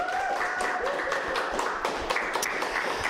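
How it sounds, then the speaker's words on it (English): Audience applause in a hall for technical volunteers at a community event, a steady wash of many hands clapping at moderate loudness, with scattered louder individual claps throughout. "Let's give them a round of applause, please."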